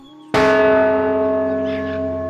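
A cartoon bell rings once in a single loud strike, then hums and sustains with a long ringing decay. No other sound accompanies it.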